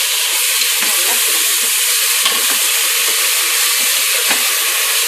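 Crushed onion hitting hot oil in a pan for intestine gravy, a loud continuous sizzle and hiss with occasional scraping stirs, steady and close throughout.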